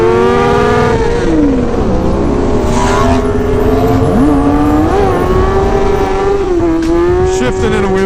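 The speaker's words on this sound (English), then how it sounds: "Shifting in a wheelie there, second to third." An Aprilia motorcycle engine revs hard and loud throughout, its pitch climbing, dropping at the shift from second to third while riding a wheelie, then climbing again, with street noise around it.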